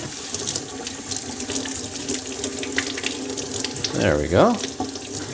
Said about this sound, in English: let me take these to the sink and give them a quick wash. So just under some cold tap water.